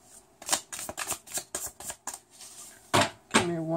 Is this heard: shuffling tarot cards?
yes